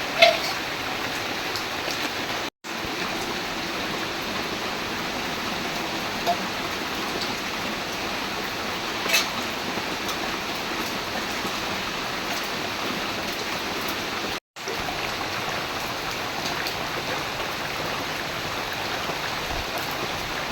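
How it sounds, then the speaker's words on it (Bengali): Heavy rain pours steadily during a flood, a dense, continuous hiss of water close by that never lets up, briefly cut twice. "বৃষ্টি কমতেছে না, বন্যার পানি তো চলে আসছে,"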